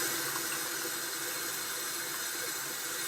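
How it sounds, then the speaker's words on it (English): Tap water runs steadily over a makeup brush as it is rinsed, a continuous quiet hiss of flowing water at sink level with no talking. "And to rinse it, I just run it on the water and I go like this to take any extra soap"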